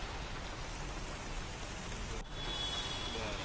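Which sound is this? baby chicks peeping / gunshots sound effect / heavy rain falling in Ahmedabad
heavy rain falling in Ahmedabad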